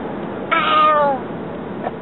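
A toddler imitates a cat's meow with a single drawn-out, wavering vocal call in the middle of the clip, close and fairly clear.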